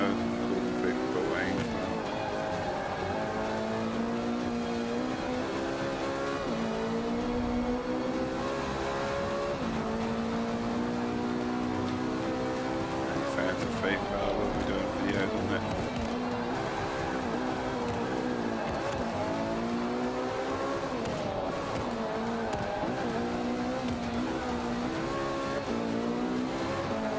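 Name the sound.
race cars driving in Forza Motorsport 5 video game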